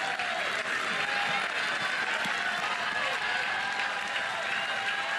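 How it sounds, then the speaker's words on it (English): A crowd at a college softball game between Oklahoma and Alabama cheers and applauds loudly and continuously, with a broadcaster talking over the noise. "Crowd on its feet."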